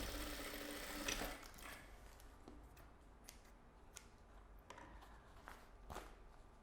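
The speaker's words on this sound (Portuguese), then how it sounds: "vem aqui na máquina, fecha o outro lado do forro" A sewing machine runs a stitching pass to close the lining of a double pencil case, with an even whirring hum broken by a few sharp clicks and rustles of fabric nearby, no voices.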